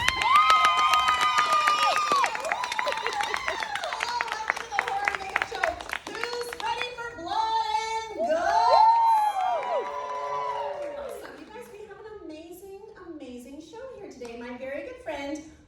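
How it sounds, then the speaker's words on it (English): A studio audience at a horror makeup show cheers and applauds for the host, with whoops and shouting voices riding over a continuous wash of clapping that runs the whole stretch, loud and close. "round of applause for the host of today's show, Alex Ross"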